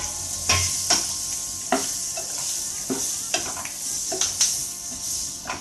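Chilies frying in butter for mirch makhani: an even, bright sizzle with regular scraping strokes of a spatula across the pan every second or so, close and clear, without any speech.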